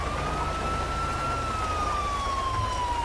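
An ambulance siren in GTA 5 wails in a slow rising and falling sweep, close and steady, over a low rumbling engine hum, with no talking.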